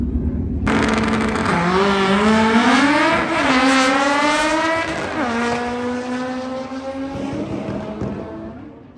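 Race cars at a drag-racing event roar loudly and continuously, their engine notes climbing and falling as they rev and accelerate close by, with no voices.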